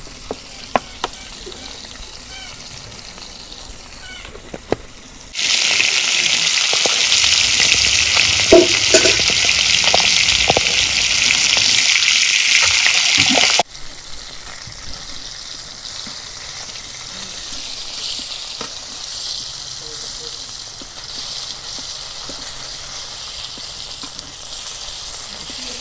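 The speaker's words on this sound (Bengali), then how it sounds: "মাছ ভাজা হয়ে গেল" Fish sizzles loudly in hot oil in a pan for several seconds, a steady bright frying hiss that cuts off abruptly, leaving quieter kitchen sounds with occasional clicks.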